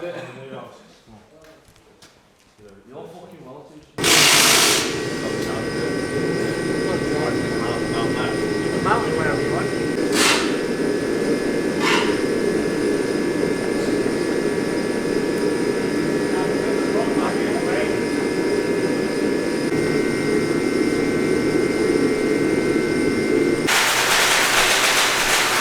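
An Audi RS3 engine fitted in a Volkswagen Caddy fires up with a sudden loud start and settles into a steady, busy idle that runs on close by, with talk in the background.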